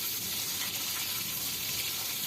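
Katla fish frying crisp in hot oil in a pan, a steady, even sizzle and hiss with no talking.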